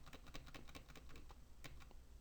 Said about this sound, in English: Hold the shift down, hit the arrow keys.